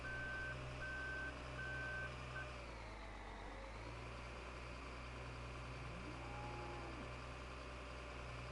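A feeder truck in Farming Simulator 2015 reverses with evenly spaced electronic beeps over a steady low engine drone, the beeps stopping after a few seconds while the motor keeps humming and shifts pitch.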